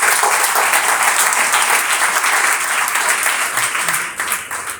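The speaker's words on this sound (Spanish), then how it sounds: "Fuerte el aplauso para nuestros hermanos." A church congregation claps and applauds loudly for its brothers during a sermon, a dense steady roar of hands that tapers off near the end.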